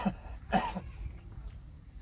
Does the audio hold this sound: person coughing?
yes